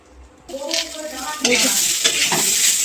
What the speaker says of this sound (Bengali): এই যে পেঁয়াজ আর লঙ্কাটা আছে এটা দিয়ে দেবো